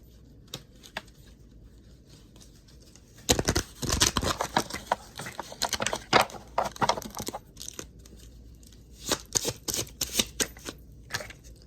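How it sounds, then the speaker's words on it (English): Dense papery riffling and snapping bursts come in quick flurries, like cards being shuffled up close, with quieter gaps between rounds. "let me just shuffle a couple more cards"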